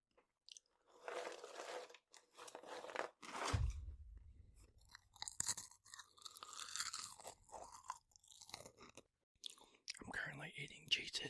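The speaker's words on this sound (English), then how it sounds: "eating Cheez-Its. The snack mix, sweet and salty." Crunchy chewing of a sweet and salty Cheez-Its snack mix with M&Ms, close and intimate, with irregular bites and crunches between moments of quiet, soft talking and whispering around them.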